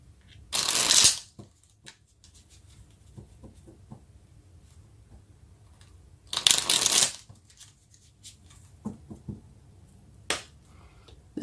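Tarot cards shuffled by hand, two loud riffling bursts about five seconds apart with soft card handling and tapping in between.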